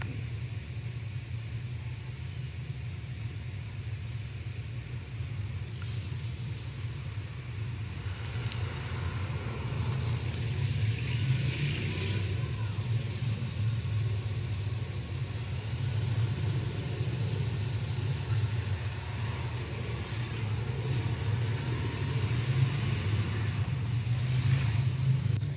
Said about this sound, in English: that's somewhat noise from the party and somewhat noise from the street